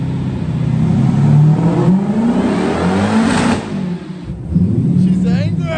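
A supercharged Coyote-engined Nissan 370Z revs and drones steadily at high load on a dyno, pitch swinging up and down, loud and close with a brief dip before surging again.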